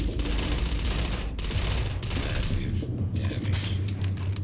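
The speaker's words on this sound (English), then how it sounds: "Firing on target. Good gun. Very good gun." Dense, continuous gunfire from a gun in the video game Starfield, a loud, steady burst of rapid shots with mechanical rattle, layered under a game voice.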